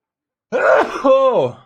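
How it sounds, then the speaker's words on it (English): A man's sneeze, loud and close, in one burst with a sharp inhale and voiced release, followed by a short groaning vocal tail. "that was a good sneeze"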